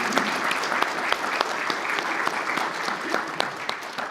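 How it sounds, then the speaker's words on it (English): A church congregation applauds for a food pantry's volunteers, a continuous wash of many hands clapping at moderate loudness, fairly even throughout with scattered sharper claps standing out. "I think we can give a little bit of applause for everyone involved in Brighter Days Food Pantry."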